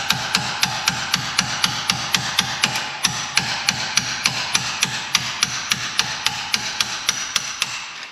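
Sharp metallic blows ring out in an even, steady rhythm, about three per second, as a spanner is forced against seized hub bolts on an ex-military Volvo TGB 13 6x6 truck.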